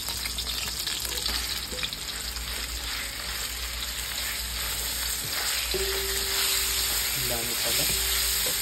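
Ground pork sizzles and fries steadily in a pan with garlic, a close, constant crackling hiss with occasional stirring, while a voice speaks briefly.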